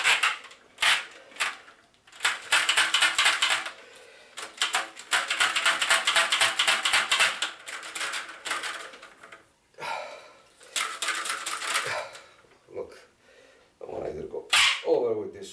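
A nylon-jacketed fish tape is pushed through 3/4 conduit pipe, giving bursts of rapid scraping and rattling clatter that stop and start with short pauses between pushes.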